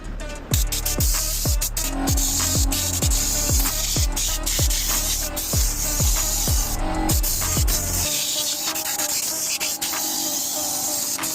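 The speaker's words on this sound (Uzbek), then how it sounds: "Endi bonusiga chiroyli qilib motorlarni siskab beramiz." A sprayer jets water over a car engine bay at a wash in Fergana, with motor parts wrapped in rags. A steady hiss runs throughout under regular sharp pulses, then continues more evenly near the end.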